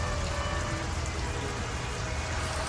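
Heavy rain pours steadily onto a roadside hut at a toll plaza, a dense, even hiss with no break, close and full.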